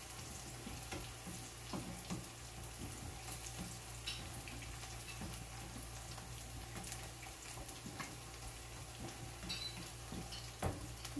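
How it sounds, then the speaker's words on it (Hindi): Cumin seeds sizzle with softened onion in a hot pan, a steady crackling fry running throughout with occasional brief clinks of a utensil, no talking. "फिर देखिए प्याज थोड़ी सॉफ्ट हो गई है, तो मैं जीरा लगा रही हूँ।"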